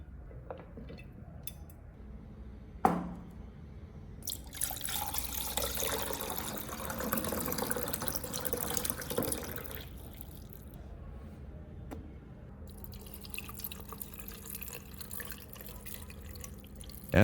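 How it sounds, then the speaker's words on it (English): Clean water is poured over four lemons in a container, a soft trickling splash lasting several seconds amid faint kitchen drips and clinks. "she poured in about 500 milliliters of clean water, just enough to fully cover the 4 lemons"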